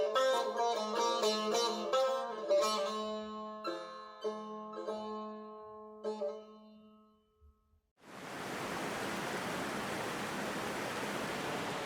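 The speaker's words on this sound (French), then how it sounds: "Là, il continue la cascade?" Waterfall heard as a steady, dense rush of falling water that begins abruptly partway through and continues unbroken, after a stretch of tonal music.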